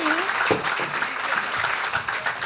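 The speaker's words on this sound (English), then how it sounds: "So can we give another round of applause to our panelists?" A crowd at a panel discussion applauds the panelists with sustained, moderately loud clapping, while a faint voice briefly rises beneath the noise.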